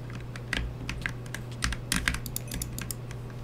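Rapid clicking of a computer keyboard during a Fortnite session, irregular bursts of keystrokes close to the microphone over a low steady hum, with no voices.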